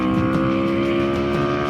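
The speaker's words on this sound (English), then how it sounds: "Christian's Ducati fires up with a fury, kicks into gear, and blisters off into the night." A Ducati motorcycle engine fires up and roars off at night on a harbor highway, a loud, steady rumbling drone with layered engine harmonics held close throughout.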